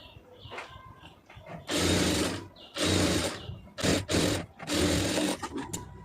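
Sewing machine stitching a lined blouse, running in several loud bursts of rapid whirring with short pauses between them, alone without talk.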